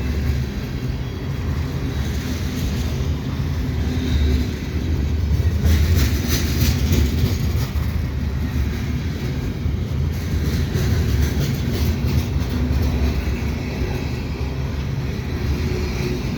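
CN freight trains meet and pass at Dorval station in winter, a loud continuous rumble with rattling wagons and clicking wheels that swells midway and holds steady throughout.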